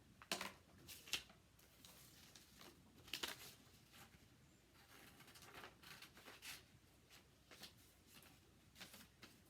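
Children's-size scissors cutting out a paper chick shape for a kids' craft: quiet, irregular snips and paper rustles in bursts, close and soft with no talking.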